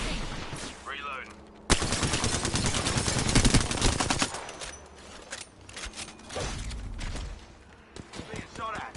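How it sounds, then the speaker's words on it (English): Bursts of automatic weapon fire in Apex Legends, loud and close, rapid shots hammering for a couple of seconds before trailing into scattered reports and impacts, with voices talking around the action. "Being shot at."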